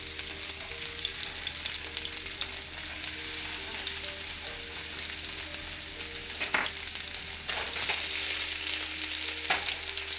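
Steady, dense sizzling of vegan meatballs frying in a hot pan, continuous and close, with a few sharper crackles and scrapes along the way.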